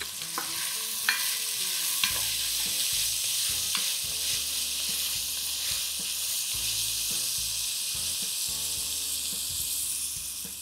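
Thin onion slices sprinkled with salt fry in hot oil, sending up a steady bright sizzle, while a utensil stirs them with repeated knocks and scrapes against the pan, close and continuous.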